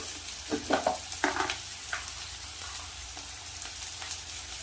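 Spices hit hot oil in a pan while fish curry cooks, giving a steady close sizzle with a few sharp bursts and scraping stirs, no talking.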